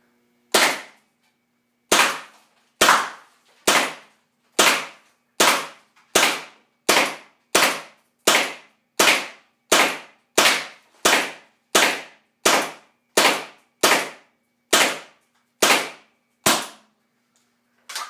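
An M17 paintball marker fires mid-grade GI Sports paintballs in a string of about twenty sharp, loud pops at a steady, slightly uneven pace, each shot clear and separate with no talking.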